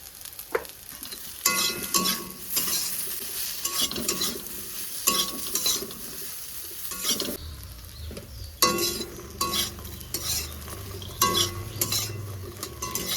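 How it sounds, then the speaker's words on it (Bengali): Soybean chunks frying in oil with salt and turmeric, an ongoing crackling sizzle broken by repeated spatula stirs and light metal clinks against the pan, close and without speech. "এবার আমি এই তেলে সয়াবিনগুলোকে ভেজে নেব"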